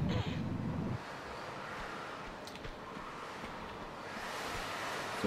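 Steady wind gusts blow across the Great Wall of China level in Tomb Raider 2, a continuous broadband rush that holds throughout, slightly heavier at the start and swelling again near the end.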